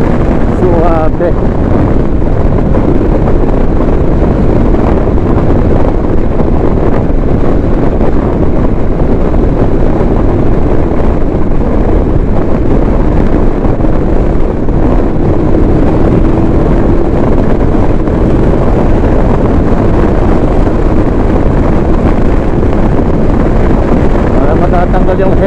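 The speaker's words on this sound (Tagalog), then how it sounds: "Ang lakas ng hangin." Strong wind buffeting the rider of a Bristol Venturi 500 motorcycle, a loud, constant roaring rush over engine drone, with a voice faintly audible beneath.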